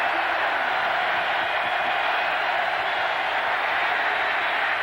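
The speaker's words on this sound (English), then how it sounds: "the crowd is on their feet" Stadium crowd at a 1991 Tennessee vs Florida college football game, a steady, dense roar of many voices cheering at a distance without pause.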